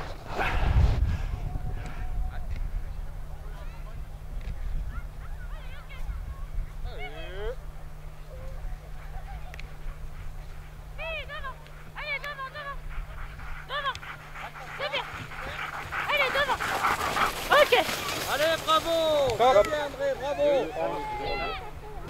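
Sled dogs at a race on an icy mountain trail bark, yip and whine in repeated bursts, growing into an excited chorus near the end, while people chat nearby.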